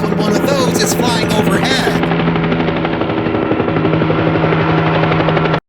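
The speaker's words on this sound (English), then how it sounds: "The rotor blades should have drowned out any of the CD sound effects" A helicopter flying overhead, its rotor blades beating loud and close in a steady drone that holds through the whole stretch, with no talk over it.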